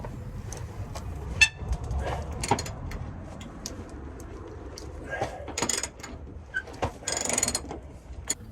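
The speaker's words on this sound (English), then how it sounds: "I wrestle to undo the bolts that hold the box to the old chassis rails" Tight factory-fitted bolts being wrestled loose where a truck box mounts to old chassis rails, with intermittent ratcheting clicks, metallic clanks and scrapes up close.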